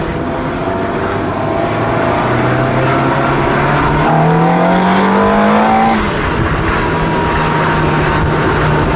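A powerful sports car of about 400 horsepower at the wheel accelerates hard, its engine note climbing steadily through the gears in a loud, continuous roar with rising pitch and a brief shift before pulling on again.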